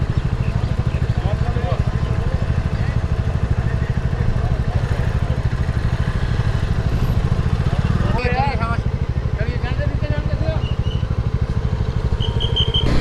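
Motorcycle ridden on a road during a long-distance Leh–Ladakh tour, a steady loud engine drone and wind rumble running continuously throughout, with faint voices underneath.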